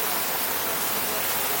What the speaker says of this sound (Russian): Вот такой водопад льется сверху, прямо на головы людей.